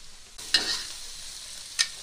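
Food stir-fried in a wok at a home kitchen in Henan, a soft steady sizzle broken by two sharp spatula scrapes against the pan, fairly quiet and with no talking.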